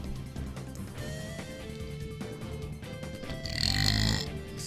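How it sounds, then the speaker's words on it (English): A man lets out one loud, drawn-out belch near the end, over a Pokémon Colosseum battle soundtrack with steady game music underneath. "I feel a belch coming"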